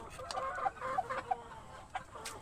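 Gamecock rooster clucking nearby, a run of short, soft, throaty clucks in quick succession with a few sharper notes in between.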